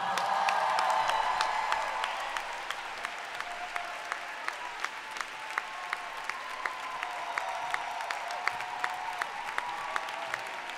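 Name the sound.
applause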